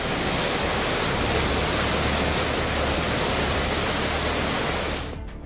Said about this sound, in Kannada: ಡ್ಯಾಂನಿಂದ 1 ಲಕ್ಷ ಕ್ಯೂಸೆಕ್ ನೀರು ನದಿಗೆ ಬಿಡಲಾಗಿದೆ